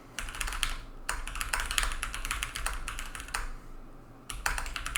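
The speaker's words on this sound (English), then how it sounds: "I'll leave you with some typing." Close-up mechanical keyboard typing in quick bursts separated by short pauses, crisp clacking keys with no voices.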